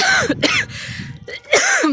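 A person coughs several times in quick, harsh bursts, close and loud, with brief pauses between them.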